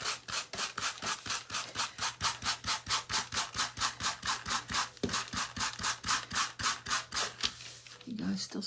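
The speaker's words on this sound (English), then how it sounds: "So we are going to sand this." Sandpaper rubbing back and forth over a painted wooden centerpiece in steady, rhythmic strokes, close and fairly loud, with a short pause near the end.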